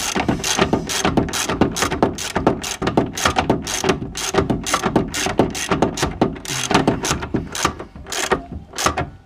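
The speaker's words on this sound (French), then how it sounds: "avec une clé dynamométrique, vous serrez à 80 Nm." A torque wrench ratchets a nut tight while a rear suspension is changed on a Renault Clio 1, producing a loud, dense run of rapid mechanical clicks that lasts throughout.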